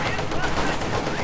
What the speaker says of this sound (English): Shoot him, Grin!